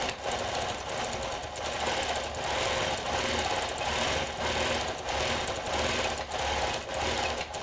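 A longarm quilting machine stitches tight back-and-forth horizontal lines, making a fast, steady mechanical chatter that runs continuously at moderate volume with no talking.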